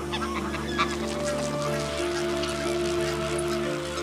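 Several geese honk repeatedly at close range in winter in the Maremma, Italy, with a fox nearby, overlapping nasal calls over a steady outdoor background.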